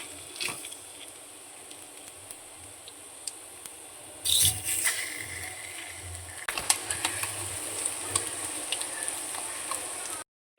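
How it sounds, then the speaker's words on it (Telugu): Cut boiled eggs frying in oil in a kadai give a steady soft sizzle with occasional clicks and scraping stirs, a louder burst of crackling midway, close and continuous. "ఒక కడాయి తీసుకొని అందులో ఆయిల్ వేసి ఈ కట్ చేసుకున్న ఎగ్స్ని"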